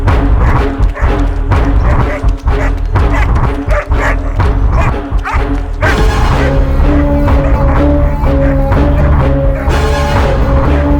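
A dog barks loudly and repeatedly in a home, the yaps and whimpers coming in quick bursts close by, with voices talking over them and a steady background of music or noise.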